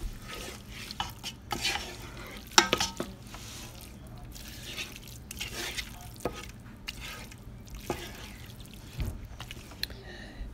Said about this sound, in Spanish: revuelve